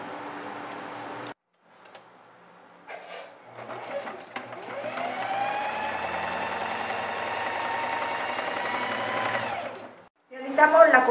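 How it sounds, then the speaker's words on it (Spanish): An overlock sewing machine stitches along a fabric edge for a red star-patterned outfit, running as a steady whirring drone for several seconds after a few brief handling knocks, then stopping abruptly. "Vamos a colocarle una costura por acá, realizando overlock y overlock por el orillo"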